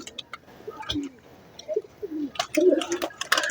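Pigeons coo softly in short, scattered calls, with faint clicks and shuffling nearby and no clear talk.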